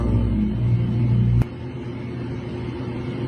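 A car engine idles with a steady low hum and rumble, then a sharp click cuts it to a quieter drone.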